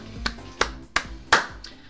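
Four sharp hand claps ring out in a steady, evenly spaced rhythm, close and crisp, the last one a little louder, with faint music underneath.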